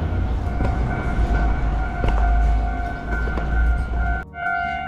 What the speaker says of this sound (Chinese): 刚好有火车来，赶快用跑的。